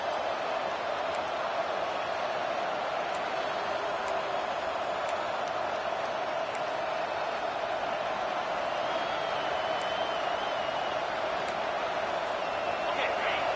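A football stadium crowd at a Michigan game roars steadily behind the defense in the red zone, a dense, continuous wall of cheering under a commentator's voice throughout.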